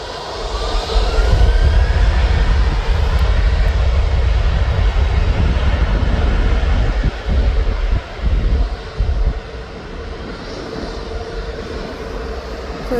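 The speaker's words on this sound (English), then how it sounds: "The plane coming down behind that is the Jet 2 Holidays to Kos." A Jet2 Holidays passenger jet bound for Kos comes in to land at Birmingham Airport, its engines a loud, steady roar that holds for several seconds before easing and fading toward the end.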